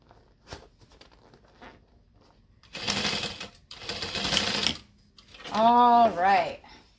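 A sewing machine stitching the base of a bucket bag runs in two dense whirring bursts of rapid needle clatter, close and fairly loud, followed by a person talking.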